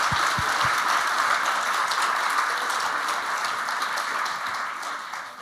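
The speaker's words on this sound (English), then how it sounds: "Let's give them a round of applause." A round of applause for a panel at a regional housing partnership summit, a full, even wash of clapping from a seated audience that holds steady and fades gently toward the end.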